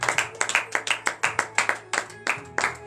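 A congregation claps at a morning prayer service in Benin, sharp rhythmic hand claps in a steady beat, close and fairly loud, with a low hum underneath and no cheering voices standing out.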